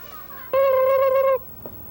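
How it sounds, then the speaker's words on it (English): A turkey gives one loud, steady gobbling call, close and clear, standing alone against a quiet outdoor background. "Tom and Tammy are public relations turkeys, so they won't be on the Thanksgiving dinner table"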